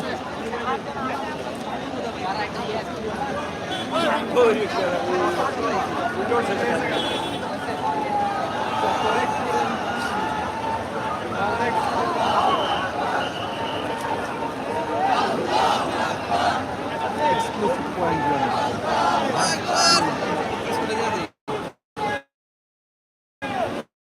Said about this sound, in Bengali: পতাকা উড়াচ্ছেন এবং স্লোগান দিয়ে যাচ্ছেন সবার সাথে